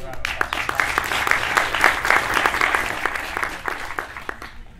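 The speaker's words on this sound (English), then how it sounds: "So a little round of applause." Meetup audience at a tech talk applauding together, a dense run of many hand claps that holds steady for a few seconds and then thins out toward the end, with some murmuring mixed in.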